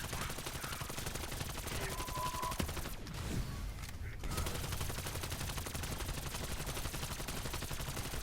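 Dense automatic gunfire in Cold War Zombies from a custom AS-VAL (modified AK-74u) rifle. A loud, continuous rattling stream breaks briefly for about a second midway and then resumes, with no talk.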